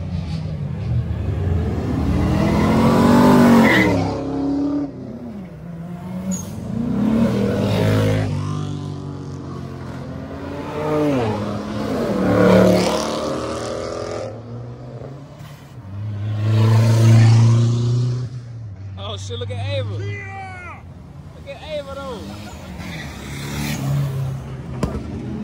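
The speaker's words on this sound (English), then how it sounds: "Supercharger." A supercharged car revs hard and sweeps past in several loud, rising and falling bursts, with supercharger whine audible as it passes, while excited onlookers shout and talk at a cars and coffee meet.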